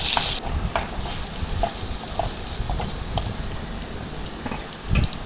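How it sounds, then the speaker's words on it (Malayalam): Sliced shallots fry in hot oil with popping mustard seeds, producing a close, busy sizzle with scattered crackles and small pops, plus occasional stirring knocks. "കടുക് പൊട്ടി കഴിയുമ്പോഴത്തേക്ക് നമ്മൾ കുറച്ച് ചെറിയ ഉള്ളി വട്ടത്തിന് അരിഞ്ഞ് വെച്ചതും കൂടി അതിനകത്തോട്ട് ചേർത്ത് നല്ലപോലെ"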